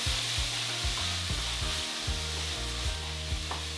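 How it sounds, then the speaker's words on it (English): Soy sauce bubbles and sizzles in a hot pan of quinoa stir fry, a dense continuous frying hiss with repeated low scraping strokes of a utensil stirring, close and steady, with no talking. "so I'm going to add a bit of soy sauce. Just about a tablespoon. Let that bubble."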